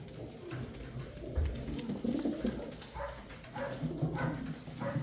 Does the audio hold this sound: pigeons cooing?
yes